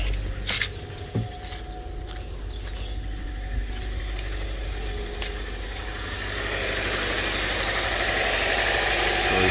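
A car engine idles steadily after a jump start, a continuous close rumble with some rattling vibration that grows slightly louder toward the end.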